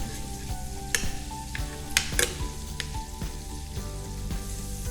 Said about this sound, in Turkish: sıcak yağ etin üzerine alıp pişme işlemini tamamlatacağız